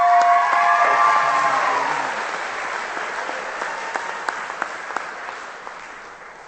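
An audience claps to welcome a student speaker to the stage at a spring technical college commencement ceremony, dense applause that is loud at first and gradually thins to scattered individual claps.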